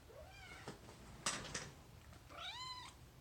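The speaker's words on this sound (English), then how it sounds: "There's a cat in the room." A house cat meows twice indoors, the calls rising and falling, with a few soft knocks and rustles between them, close and clear in a quiet room.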